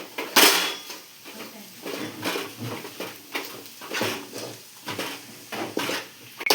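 Pav bhaji being mashed in a pan with a metal masher, giving repeated scraping, clinking strokes in a steady rhythm, close and moderately loud.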